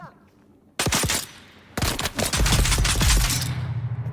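Gunfire in the Dune Awakening video game: two loud bursts of rapid automatic shots, the second longer and heavier with a low rumbling tail, close and dense.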